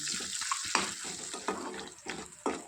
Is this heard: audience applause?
no